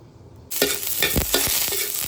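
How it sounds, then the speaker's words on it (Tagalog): Adobo sizzles and is stirred in a pan over a charcoal fire fanned by a blower. After a quiet half-second, a loud, steady frying hiss starts, with scraping stir strokes close by and no talk. "Ito yung igigisa ko yung adobo namin para medyo masarap."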